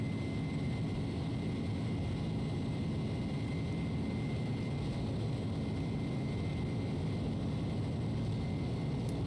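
Airbus A310 jet engines at takeoff thrust in a flight simulator game, a steady loud roar with a constant whine that holds evenly throughout.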